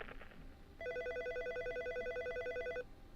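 At a radio station carrying a Class 2A sectional high school broadcast, a phone sounds one clear, sustained electronic warbling ring of about two seconds, rising above a quiet, murky background before it stops.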